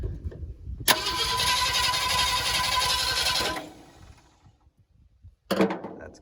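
A 1967 Ford F100 engine cranks over on its starter in one loud, steady whirring burst of about three seconds, then stops; after a pause a second, brief burst begins.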